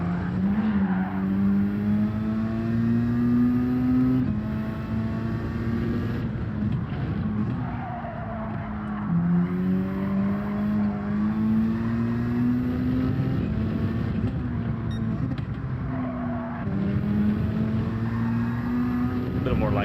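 A race car engine in Gran Turismo 7 revs and rises in pitch through repeated accelerations with too much throttle, with tire squeal, loud and continuous, shifting gears in waves.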